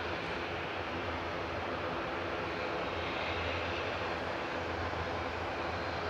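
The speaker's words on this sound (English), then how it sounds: "That was EasyJet from Milan just touching down." An EasyJet Airbus A319 arriving from Milan touches down at Manchester Airport, a steady broadband jet roar at moderate distance that holds evenly throughout with no voices.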